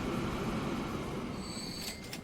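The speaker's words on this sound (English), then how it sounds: "the train is arriving at the station" A freight train rolling into a station in Transport Fever 2, a steady dense mechanical rumble of rail cars with a faint squeal of wheels rising near the end.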